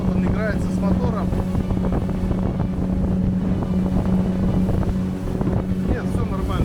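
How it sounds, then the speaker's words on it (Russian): Outboard motor running on a Yolva collapsible HDPE boat on open water, a steady droning hum with wind buffeting the microphone and a voice talking over it. "Вот он играется с мотором."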